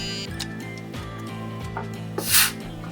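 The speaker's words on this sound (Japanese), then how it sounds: "お肉を入れて少し揉み込んでから真空して冷蔵庫へ。" A VAKUEN vacuum food container holding marinated chicken breast is pumped down with a steady, rhythmic mechanical ratcheting whir, and a brief hiss of air near the end.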